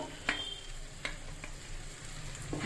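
Onion paste with turmeric, Kashmiri chilli and cumin powders frying in a pan for a catla fish curry, giving a soft, steady sizzle with a few faint clinks of stirring.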